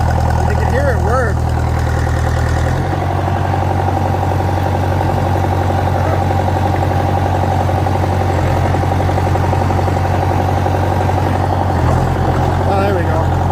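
A car engine idling steadily with a low, continuous rumble, close and loud throughout, with a voice talking briefly over it near the start and end.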